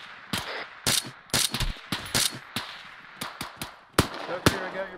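Gunfire in an Arma 3 firefight, a string of sharp, loud shots in irregular bursts with short gaps, some close and some trailing off, with a voice briefly talking between them.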